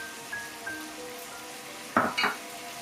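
Chicken frying in a pan with soy sauce, chilli sauce and capsicum, a soft steady sizzle with a couple of sharp spatula scrapes or stirs near the end.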